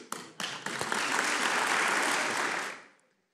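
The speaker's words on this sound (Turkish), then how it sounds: "Sanırım bu alkışlar sözü aldığımızın garantisidir." A few separate claps swell into full crowd applause at a political gathering of tea growers from Rize, holding strong for a couple of seconds before fading quickly to silence.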